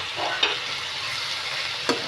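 Tomatoes frying with cooked onions and carrot in a pan, a steady close sizzle with two brief sharp stirring scrapes of a spoon against the metal.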